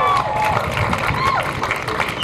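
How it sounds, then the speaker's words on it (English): A crowd at a Walk of Fame induction event in Cleveland claps and cheers, with shouts and whistles rising over broadband applause. The noise is loud and steady throughout. "I need a lot of noise and a round of applause"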